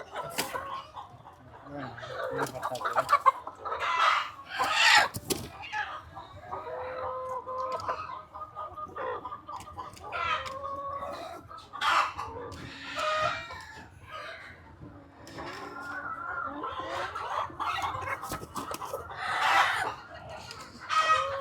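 Native free-range hens cluck and a rooster crows repeatedly at a country chicken farm in Turuvekere, the calls overlapping in irregular bursts at close to moderate distance.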